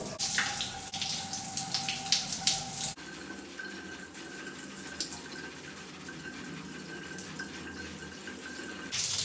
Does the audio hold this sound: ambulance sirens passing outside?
no